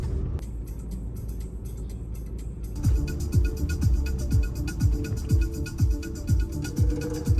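A van on a road carries a constant engine and road rumble from inside. Partway through, repeated low thumps and rattles start, suggesting a rougher surface, and there is no speech.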